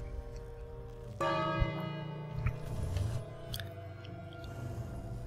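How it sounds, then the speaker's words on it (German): A bell on the dragon-feeding machine in the 2015 King's Quest video game strikes once, loud and ringing, then decays slowly amid faint clanks and mechanical noises. "Dann wird geklingelt."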